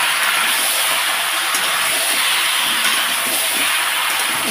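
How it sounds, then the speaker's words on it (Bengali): Chicken meat sizzling in a pan with fried onions, a loud continuous hiss that runs steadily throughout without talk. "তো একটু লাল করে ভেজে মাংসটাকে আমি ছেড়ে দিলাম।"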